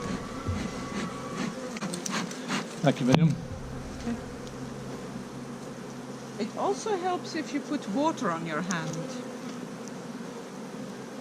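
Honey bees droning steadily around an open hive during a beekeeper's inspection, a constant close buzz with some louder passes, while people talk over it.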